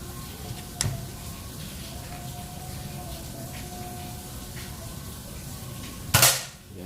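One crisp, close shot from a Mouser Biggame magazine air rifle snaps out near the end, preceded by a softer click early on and steady low background noise in between.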